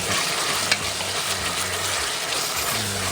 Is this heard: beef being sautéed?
yes